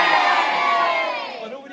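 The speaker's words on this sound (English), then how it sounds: "I expect to hear a big loud cheer when I say, Warwick Castle is safe!" A large crowd of lords and ladies cheers and whoops loudly at Warwick Castle, the shout starting strong and slowly fading over under two seconds.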